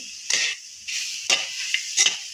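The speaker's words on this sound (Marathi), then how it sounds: "आता आपली केळी चांगली परतून झालेली बघा" Bananas sautéing in a pan for prasad sheera, a steady close sizzle with a few sharper bursts as the pieces are stirred and turned.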